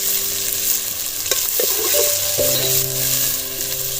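Onions fry in a pan for a Telangana-style boti curry, a loud continuous sizzle with scraping stirs and a brief clatter midway, no voices.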